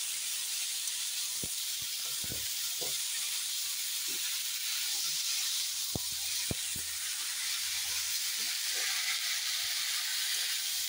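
Dal with bottle gourd stems (lau data), salt and turmeric simmering and sizzling in a pan, giving a steady, faint hiss with occasional soft pops and clicks of stirring.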